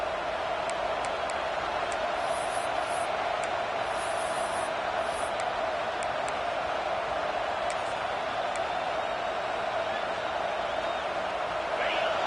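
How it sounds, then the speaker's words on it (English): A steady, dense stadium crowd roar fills a college football video game, a constant wash of noise with faint whistles and cheers on top. "This crowd bringing the energy and noise early."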